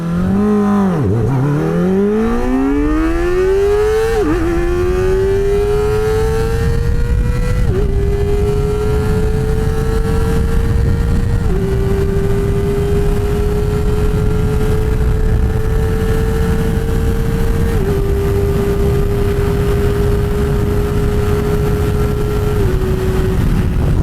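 A Kawasaki ZX-4RR motorcycle launches hard, its high-revving engine climbing in pitch and shrieking up through first gear, then holding a loud steady wail through several upshifts with clear pitch steps, heard close over constant wind rush.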